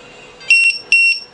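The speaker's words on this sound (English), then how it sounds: "the alarm long, it means the signal lost." An RC receiver buzzer sounds its signal-loss alarm when no throttle signal arrives, giving two loud, close, shrill electronic beep bursts in quick succession.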